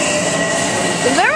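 Metro-North train passing through Tarrytown station on the Hudson Line, a steady loud rail roar with faint wheel squeal rising near the end and people talking over it.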